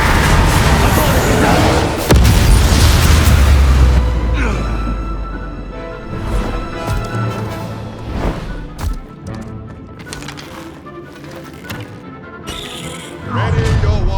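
Confringo fire spell explosions burst during a Hogwarts Legacy duel, a loud heavy boom at the start followed by crashing impacts and lingering rumble, with voices speaking over the fight.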